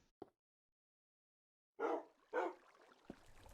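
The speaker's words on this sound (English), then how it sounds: "So let's release the dogs." Minecraft wolves bark after release from a mob farm, two loud distinct barks in quick succession, preceded by a faint click and followed by softer scuffling.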